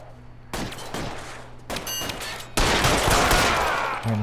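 Video game gunfire from L.A. Noire crackles in repeated loud bursts of shots, with a rapid volley of fire followed by sustained heavy shooting close up, and no one speaking over it.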